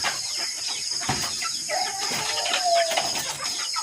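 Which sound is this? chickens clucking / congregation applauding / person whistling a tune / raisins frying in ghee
chickens clucking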